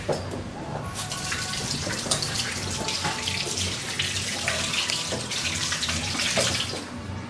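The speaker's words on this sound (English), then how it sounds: "So we have our potato right here. We're going to wash it under cold water." Cold water runs steadily from a kitchen tap while a potato is washed under it, a continuous close splashing stream with no talk.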